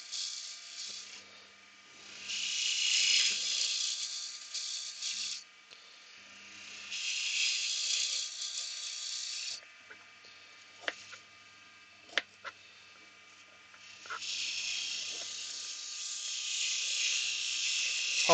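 Gouges cut a spinning multi-species wooden tree decoration on a lathe in a close, hissing, scraping rasp. The cuts come in several sustained passes with pauses and a few sharp clicks between.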